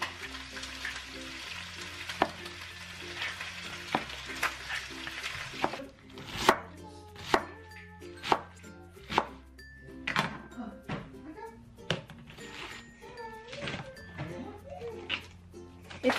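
Knife chopping carrots and other vegetables for Filipino pansit on a cutting board, a series of sharp, close thunks at irregular rhythm, following a stretch of background music with sizzling in the kitchen.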